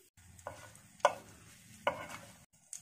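Whole spices fry in a pan for Kashmiri paneer: dried red chillies, bay leaf, cardamom and a cinnamon stick. A low, steady sizzle runs underneath a few sharp stirring clinks and scrapes.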